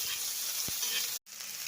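Finely chopped onion goes into an iron pan for besan, a soft continuous sizzle with a brief stirring scrape, and then a sharp cut near the end.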